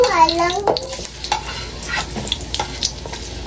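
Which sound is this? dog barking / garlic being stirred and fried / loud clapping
garlic being stirred and fried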